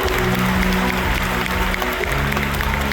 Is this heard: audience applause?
yes